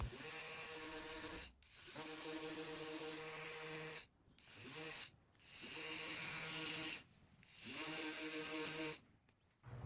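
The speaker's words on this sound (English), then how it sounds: "continued to sand the whole entire dresser with 120, 150, and then 180 grit sandpaper" A wooden dresser sanded with 120, 150 and 180 grit sandpaper, heard as a rough, steady back-and-forth rasp in repeated strokes of a second or two, broken by short pauses.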